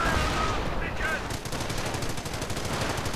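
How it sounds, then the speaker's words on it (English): A heavy machine gun in a World War II strategy game fires on Panzer Grenadiers, sounding as a dense, rapid run of bursts over loud battle noise, with game voices briefly heard at the start. "Heavy machine gun opening up on the Panzer Grenadiers, suppressing them."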